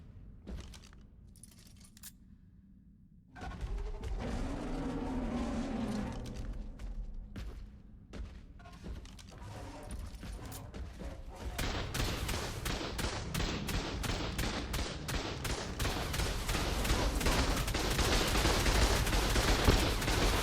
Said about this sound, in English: So I hopped on to the stego and fired few rockets.